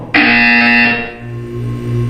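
A loud electronic buzzer from the video game Portal sounds abruptly for about a second, then its hum fades into a lower steady drone.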